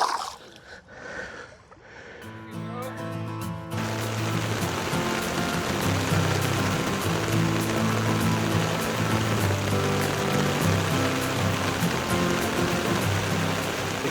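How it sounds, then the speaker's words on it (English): Heavy rain pours down at a fishing dam, a dense, steady hiss of drops on surfaces filling the scene after a brief quieter, uneven start. "Again it was pouring down later that afternoon"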